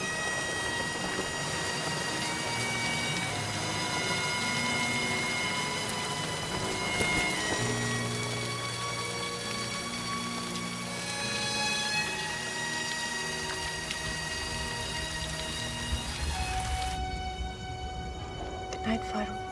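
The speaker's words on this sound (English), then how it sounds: "But it just rained." Steady rain falls throughout, a dense, even patter on surfaces with a faint low rumble beneath, continuous and moderately distant with no voices.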